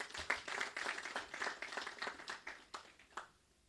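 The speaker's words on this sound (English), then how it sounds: "I think we can now give another hand of applause." An audience at a revenue assurance launch event gives a faint, distant round of applause with scattered individual claps that thin out and stop near the end.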